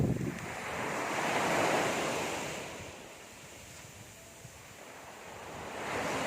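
Ocean surf at Cambagio Beach in the Dinagat Islands swells and recedes in broad washes, loud up close with gusty wind buffeting the microphone.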